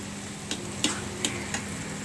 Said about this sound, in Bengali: আমরা আজকে রান্না করতেছি ডাটা শাক ভাজি